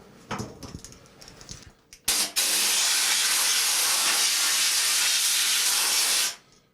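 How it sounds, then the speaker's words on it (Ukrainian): Compressed air blasts loudly and steadily across a circuit board to dry it after washing, a sustained close hiss lasting about four seconds, preceded by brief splashing and clattering from the cleaning bench. "Далі ми обдуваємо її повітрям."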